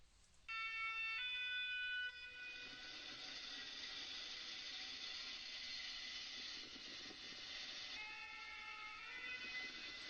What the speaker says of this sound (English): The frequency, the pitch is higher as the ambulance approaches, and it's lower as it recedes.